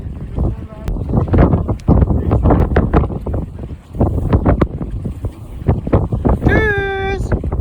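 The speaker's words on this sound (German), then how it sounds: "Viel sprechen geht hier wohl nicht, weil sehr windig." Strong gusting wind buffets a sailboat while docking under sail, roaring loudly across the microphone in rough bursts; someone speaks intermittently beneath it, and a short whistle-like tone sounds near the end.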